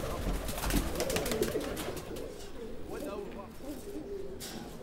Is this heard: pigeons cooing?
yes